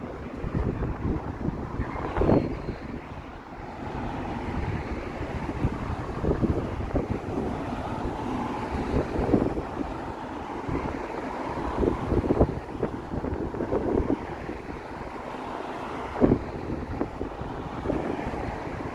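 Wind blowing outdoors in Toronto, a steady rushing roar with gusts buffeting the microphone throughout, loud and continuous with low rumbling bursts.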